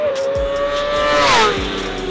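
A race car roars past at speed during the 2023 Spa 24 Hours race, its high engine whine sweeping up and then dropping in pitch as it goes by, loud and close.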